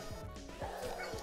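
A Shiba Inu barking in the video game Nippon Marathon, a few quick yips in a short burst mixed under busy game music and effects.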